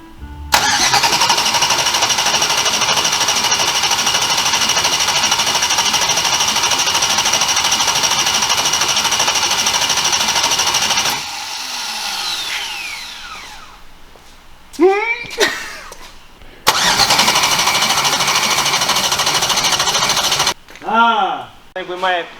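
A new 2000HP race car engine cranks with a loud, steady mechanical whirr for about ten seconds, then stops. Short sputters follow, and a second long cranking run ends in brief revving bursts.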